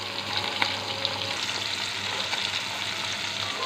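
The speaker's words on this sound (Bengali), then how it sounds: "মাছগুলো উল্টে পাল্টে আমি ভেজে নিচ্ছি" Tatkini fish sizzle and spit steadily in hot oil in a pan, a dense continuous frying hiss with occasional sharper pops, close and alone with no voices.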